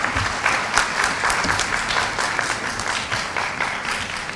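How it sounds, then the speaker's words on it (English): Students, parents and faculty at an Amity University summer school event applaud the director, a continuous round of clapping with some sharper individual claps standing out, moderately loud and unaccompanied by speech. "Please give a round of applause for him."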